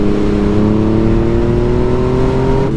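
A Yamaha MT-09 motorcycle accelerates hard in its sharpest throttle mode, a loud, close, steady engine drone whose pitch climbs smoothly throughout, with no voices.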